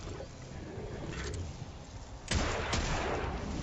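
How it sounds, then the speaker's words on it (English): Hand cannon fire in the Destiny 2 video game: two sharp, loud gunshot cracks spaced about half a second apart over a dense, noisy backdrop of in-game combat sound. "I took that first guy out with my hand cannon"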